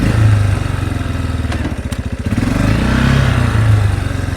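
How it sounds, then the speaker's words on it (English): A cheap four-wheeler ATV engine idles in neutral at a high idle speed, a close, steady chugging putter with a rapid regular firing rhythm and a brief dip in the middle. "drop it back into neutral, idle speed's high"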